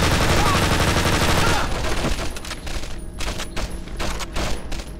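MP40 submachine gun firing in the Wii shooter Medal of Honor: Heroes 2, a fast, dense burst that cuts off and gives way to scattered shots and battle noise, loud and close.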